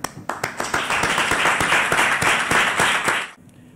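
Audience applause at a televised farewell ceremony in Benin, a burst of sharp individual claps building into steady close clapping that stops abruptly near the end.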